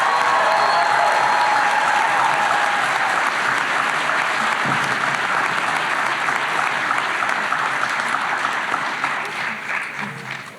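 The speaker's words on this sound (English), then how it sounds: "Let's give them another round of applause." Sustained applause from a large crowd at a veterinary college white coat ceremony, steady and full for most of the stretch, then tapering off slightly toward the end.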